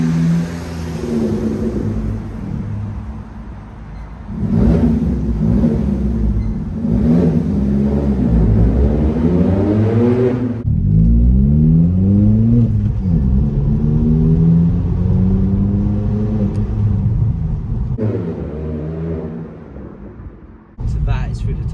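Vauxhall Corsa fitted with a Fastlanestyling aftermarket exhaust, its engine rising and falling through several revs and gear changes with a loud, rumbling drone, close by and steady.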